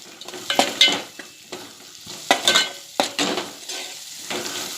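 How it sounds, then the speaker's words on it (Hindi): A spoon scrapes and clinks against a pan in irregular strokes, mixing masala for a drumstick curry while it sizzles underneath, close up with no talking. "अब मैं इसे चम्मच से मसाले को अच्छे से मिक्स करूंगी।"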